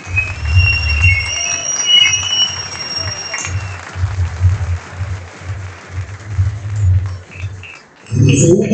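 Outdoor crowd applause at the closing ceremony of the Kayak Surf World Championships in Argentina honors third place, steady clapping in rhythmic bursts with faint whistles and loud wind rumble on the microphone.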